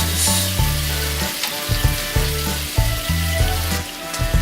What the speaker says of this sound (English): And then we leave it to cook for another few seconds in those succulent juices